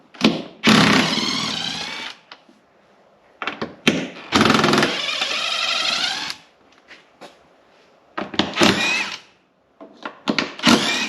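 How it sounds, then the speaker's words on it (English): Bursts of a 13mm socket on an impact-style wrench loosening the spare tire carrier bolts on a Jeep Wrangler JLU, several loud rattling runs of a second or two each with short pauses between them. "I'm going to loosen up the 8 bolts on the spare tire carrier."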